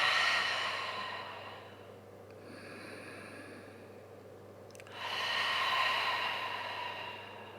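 Slow breathing during a yoga forward fold, a long soft breath that fades into quiet, then a fuller airy exhale near the end, close and gentle.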